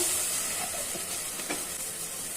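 Fried onion sizzling in a pot with garlic paste, turmeric and cumin added, a steady close crackling hiss with faint stirring for a lentil and bottle gourd dish.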